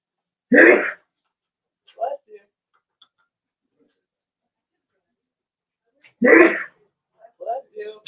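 A person sneezes sharply twice, several seconds apart, indoors during an art-making session, with quiet throat sounds and faint voices between.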